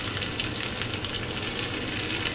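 Onion or shallots sizzling in hot oil with mustard seeds and dried red chillies, a dense, steady crackling fry close up with no voices.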